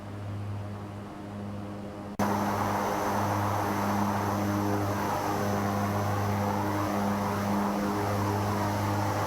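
A propeller airplane engine in the flight simulator X-Plane 11 drones steadily with a constant tonal hum, jumping abruptly louder partway through and then holding at that level alone.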